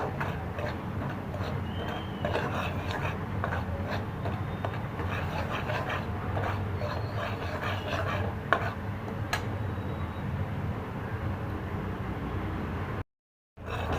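Gram flour roasting in a pan over low heat while being stirred for carrot malai barfi, a steady soft sizzle with faint scraping and ticking from the spoon, close and continuous with no talk.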